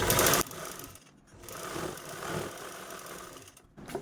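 Sewing machine stitching the folded edge of an old saree, a steady close mechanical whir running through with a brief pause near the middle and a dip toward the end, no voices.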